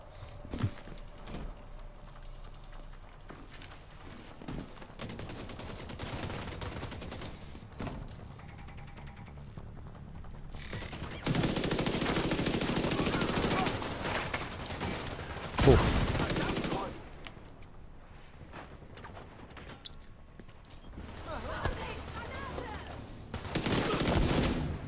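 Rapid gunfire and heavy grenade blasts from the video game The Division 2, with bursts of shooting separated by loud explosive roars, the biggest around the middle, over continuous battle noise.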